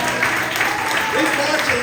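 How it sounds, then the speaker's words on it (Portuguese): Church congregation applauding during a family-service sermon, a loud, dense, steady roar of clapping with a voice speaking over it. "O senhor merece aplauso?"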